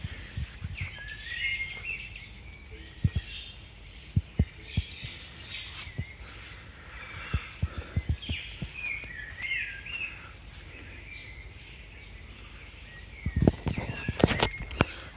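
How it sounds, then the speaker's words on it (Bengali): Birds call at dawn in a village setting, scattered chirps and warbles at a moderate distance over a constant insect drone, with occasional sharp clicks and footsteps nearby. "তো বন্ধুরা, এই হচ্ছে পাখির ডাক।"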